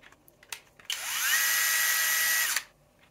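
A Xiaomi cordless screwdriver switched to drill mode spins up with a rising whine, then holds a loud, steady high-pitched motor buzz for under two seconds before stopping abruptly.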